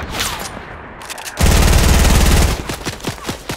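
Gunfire in Fortnite's creative mode: a dense, loud burst of rapid automatic fire, followed by a string of separate sharp shots spaced out at an uneven rhythm.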